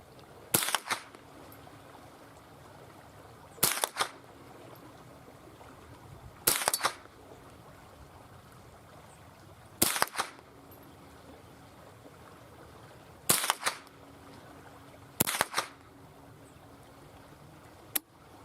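Sharp .22 rifle shots with Blazer ammunition crack out one at a time toward a target, six separate reports spaced a few seconds apart over a quiet outdoor background.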